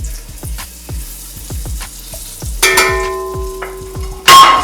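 Chicken frying in a pan with home-cooked chicken and soup, a steady sizzle running under repeated soft clanks and scraping of utensils and dishes, with a brighter burst of sizzling near the end.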